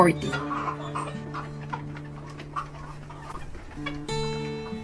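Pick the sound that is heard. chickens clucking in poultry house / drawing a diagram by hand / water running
chickens clucking in poultry house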